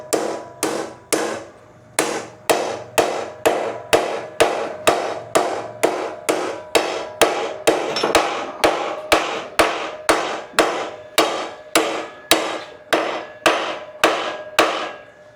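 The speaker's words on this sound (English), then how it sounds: "you want to beat on it, or massage it I should say, as close to the vise as possible" Steel Tacoma bumper being hammered near a vise, with loud, evenly spaced ringing blows at a steady rhythm of roughly two strikes per second, close up and with no talk.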